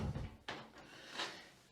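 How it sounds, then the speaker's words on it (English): A door with a doorknob and deadbolt is pushed shut during hardware installation, giving one quiet, sharp thud and latch click, followed by a fainter knock in a quiet room. "So what I do is I close the door"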